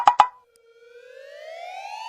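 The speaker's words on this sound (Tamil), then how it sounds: "ஆம்புலன்ஸ் வந்து கேக்குது மாமா" A siren rises steadily in pitch after two short sharp pops, growing gradually louder as it winds up alone with no talk over it.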